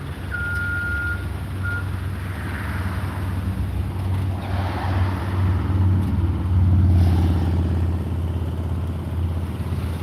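A FedEx delivery truck idles nearby with a deep, steady engine rumble, while a brief reversing-style beep sounds near the start and the drone swells slightly toward the middle.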